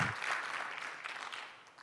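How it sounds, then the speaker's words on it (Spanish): Applause from an audience at an evening motivational talk, a steady, continuous wash of clapping that fills the short stretch without any voices over it. "Dale un fuerte aplauso, una vez más."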